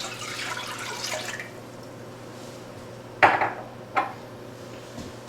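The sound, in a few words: water being poured into pot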